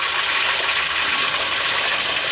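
A turkey sitting in hot deep-frying oil that bubbles up fast: a loud, steady, dense roaring sizzle held at constant strength from start to finish, with no voices.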